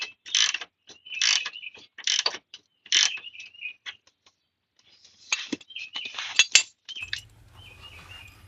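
A wrench works the nut on a Suzuki Sidekick sway bar end link, producing repeated close ratcheting clicks in short bursts separated by pauses, with a light metallic clink near the end.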